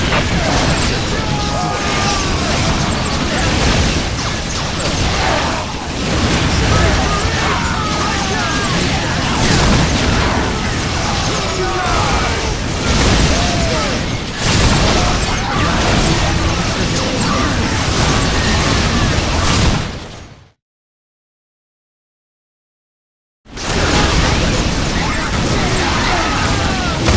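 Whirlwind missile artillery tank bombardment in Warhammer 40,000: Dawn of War, a loud, dense wall of continuous blasts and rumbling impacts with voices mixed in, cutting out briefly to silence before resuming.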